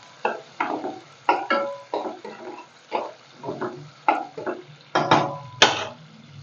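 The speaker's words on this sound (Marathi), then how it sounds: "मस्त गुलाब होईपर्यंत आपण त्याला परतून घ्यायचं" Stirring and sautéing black ghevda beans in a pan for village-style masala rice: about a dozen rhythmic scraping and clattering strokes, close and fairly loud, with no talking.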